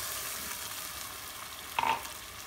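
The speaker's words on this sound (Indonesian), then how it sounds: "Jadi ini airnya sudah panas ya teman-teman, langsung mendidih." Clam sauce cooks in a pan after a glass of hot water goes in, giving a steady broad sizzling boil with a brief bubbling burst near the end.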